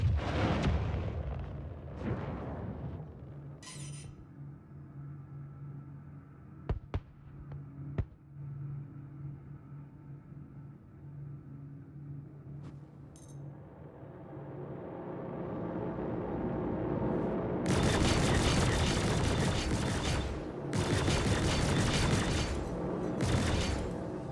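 In Star Citizen, a missile strikes and destroys a target: scattered sharp cracks and rumbling engine noise build into heavy roaring explosion bursts near the end, loud and close, with no speech.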